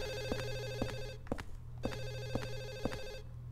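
Telephone ringing in the video game Silent Hill 4: The Room, an electronic bell trilling in repeated bursts with short pauses between, moderately loud over a low droning ambient background.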